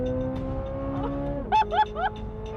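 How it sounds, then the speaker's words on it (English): A mid-engine V8 Corvette C8 Stingray holds a steady drone, then revs hard in three quick rising bursts, loud and close, with a high whine climbing each time. "Oh, it revs so hard!"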